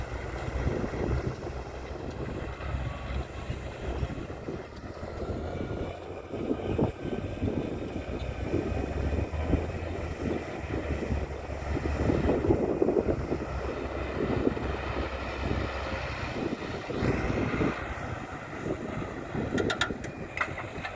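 A Case Puma 210 tractor of 210 horsepower ploughs a field with a five-furrow Kuhn plough, its engine a steady, loud, continuous drone throughout with no speech.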